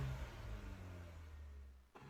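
A Chevy small-block car engine revs quietly at a distance, a low steady drone that swells slightly and then cuts off near the end.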